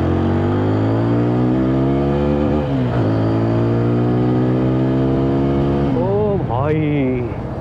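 A TVS Apache 160 4V motorcycle accelerating to overtake on the road, its engine note climbing steadily and loud up close before easing off and revving again near the end.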